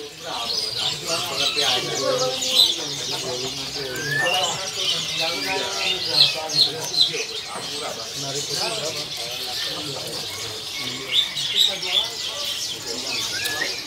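Caged cucak ranting songbirds at a bird-selling kiosk give steady, dense chirps and tweets throughout, with a few louder calls, heard beneath someone talking continuously nearby.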